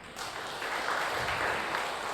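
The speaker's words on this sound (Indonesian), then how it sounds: "Tepuk tangan buat Tuhan Yesus." A church congregation applauds during an online Sunday worship service, a steady wash of clapping from many hands that holds at an even level for about two seconds with no voices over it.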